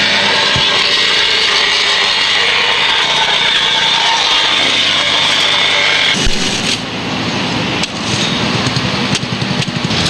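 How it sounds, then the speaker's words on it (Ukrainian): A vibratory plate compactor tamps hot asphalt during street road repairs, giving a loud, steady, close buzzing rumble that runs throughout with brief shifts in tone near the end. "Затрамбували, он віброплита в нас для цього є."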